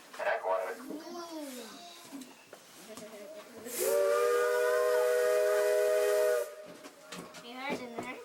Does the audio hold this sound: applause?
no